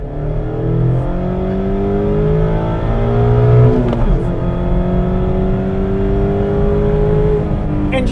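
The inline-four engine of a 2023 Mazda MX-5 Miata, 181 horsepower, revs up through the gears with rising pitch sweeps, heard loud and close from inside the car.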